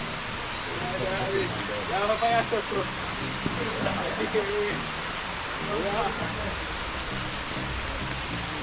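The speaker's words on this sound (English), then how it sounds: "It's a rainy day, but we're still out." Steady rain falls outdoors in Jamaica, a constant hiss on surfaces throughout, while someone talks intermittently over it.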